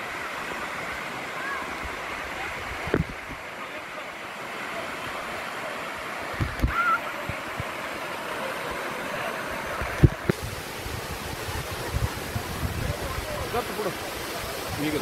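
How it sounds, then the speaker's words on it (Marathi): Seasonal monsoon waterfall near Otur, cascading down in two or three stages, gives a steady broadband rush of falling water with a few louder splashes and bumps, recorded close by in the open. "2-3 टप्प्यात पाणी पडत आहे."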